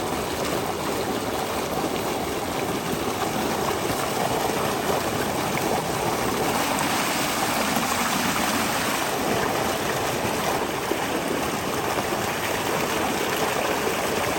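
Water gushes steadily from a solar-powered tubewell, a continuous loud rushing splash with no break, no voices over it.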